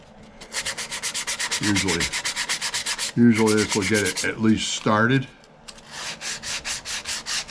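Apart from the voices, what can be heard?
hand sanding a wooden box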